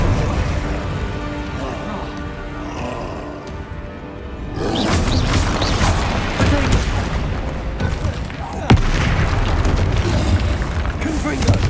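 Fire and blasting spells cast in Hogwarts Legacy, with layered booms, whooshes and crackling bursts that swell loudly partway through and carry on under spoken spell incantations.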